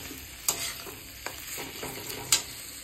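Fish head lightly sautéing in a pan for mung dal, a low steady sizzle with soft scraping stirs and a few sharper clinks of the spatula against the pan, no talking.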